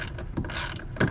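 A screw being tightened during battery replacement on a Porsche 911 (991), giving brief mechanical ratcheting clicks and scrapes, close and moderately loud, with a sharper burst near the end.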